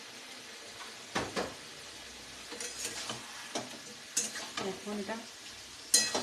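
Spiced paneer chicken curry masala frying in oil, a steady soft sizzle with scraping stirs and clinks of a utensil against the pan. A voice speaks briefly over it.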